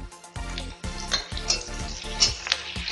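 Chili and onion frying in hot oil in a kadai with a little cumin, steady sizzling broken by repeated close metallic scrapes and clinks of a spoon against the pan, with no talking.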